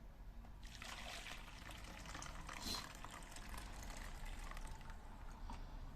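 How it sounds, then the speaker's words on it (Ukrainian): Hot boiled water poured into a container makes a faint, continuous trickling and filling sound for several seconds, quiet and close, with no talking. "Наливаємо воду в пропорції."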